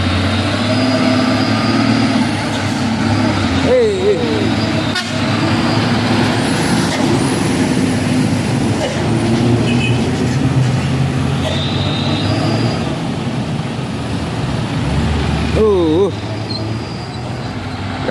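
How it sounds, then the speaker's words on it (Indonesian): A container trailer truck climbs a hill at Bukit Kodok, its heavy engine drone rising and falling as it labours, with air-brake hisses and other traffic passing nearby while someone narrates over the scene. "ada truk trailer PAO ya menanjak kontainer ya teman-teman"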